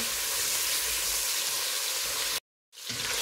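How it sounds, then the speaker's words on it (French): Beef browning with onions in a pan gives off a steady, bright frying sizzle, cut off by a short silence and then resuming, with no voices. "Et je la fais griller avec les oignons."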